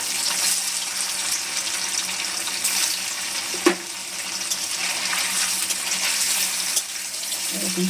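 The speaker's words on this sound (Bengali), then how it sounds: "তো পনিরটা আমি আগে ভেজে নেব তেলে" Paneer pieces shallow-frying in oil, a continuous bright crackling sizzle with occasional spatters and a sharp pop partway through, with no voice.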